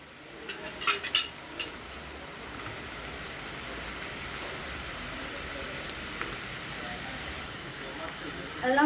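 Sliced onions frying in oil in a pan during fish cooking, a steady close hiss and sizzle that runs throughout, with a few light utensil clinks early on.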